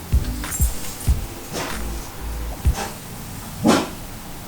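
A dog barks in short sharp bursts, several separate barks spaced irregularly, close by with no talking.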